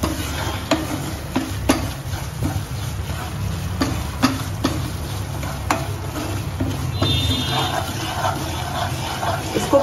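Semolina for suji halwa is roasted in a pan and stirred continuously, giving a string of close, sharp scraping strokes at an uneven rhythm over a soft, steady background hiss, with no voices.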